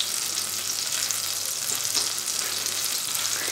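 Slices of pain perdu sizzle in melted butter in a pan, a steady, fine crackling hiss that stays even throughout with no talking.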